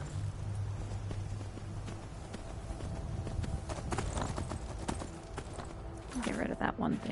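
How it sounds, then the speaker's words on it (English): Horse hooves clip-clop steadily in Skyrim while the player rides, a regular trotting rhythm under game ambience with a brief whinny-like burst near the end; someone talks over it. "Alright, horse."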